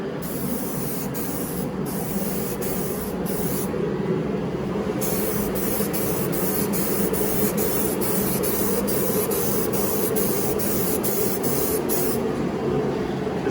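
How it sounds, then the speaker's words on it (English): A spray can lays metal flake paint onto a car, its hiss coming in a run of short bursts with brief gaps, then a longer continuous spray, close and loud over a low background hum. "I'll put a light coat on here, let it flash, then we'll hit it a little harder."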